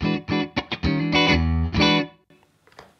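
A Fender American Pro II electric guitar with a slightly distorted, bright single-coil tone from parallel-wired pickups plays a few short plucked notes and chords, then a sustained chord rings out and fades.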